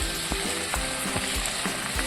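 Banana pieces and semolina sautéing in a pan while mahaprasad sheera is made, giving a steady soft sizzle with scattered light scraping taps from stirring, moderately close, with no talking.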